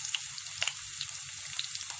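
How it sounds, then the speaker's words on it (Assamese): Onions frying in hot mustard oil in a wok, with a steady close sizzle dotted with small popping crackles, and no voices. "মিঠাতেলখিনি অলপ গৰম হোৱাৰ পিছত মই ইয়াত পিঁয়াজখিনি দি দিছোঁ"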